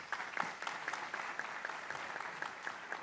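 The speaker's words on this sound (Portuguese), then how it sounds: "E uma salva de palmas para vocês" Applause from an audience at a water-program launch ceremony, a steady faint patter of clapping held at an even level for a few seconds with no voices over it.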